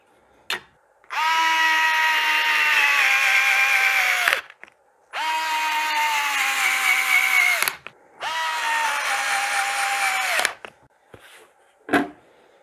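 A Bosch GO 2 cordless screwdriver drives 3.5 x 16 mm self-tapping screws, three long whirring runs of several seconds each, close and loud, with short clicks and pauses between them.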